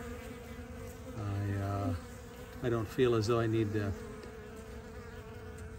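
Honey bees from a swarm being rehived in cold, wet weather give a soft, steady buzzing beneath someone speaking close by.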